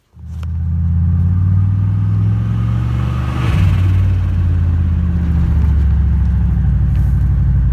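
Vehicle engine starting up and idling loudly close by while the vehicle is backed out: a steady low rumble that holds for several seconds, with no talking.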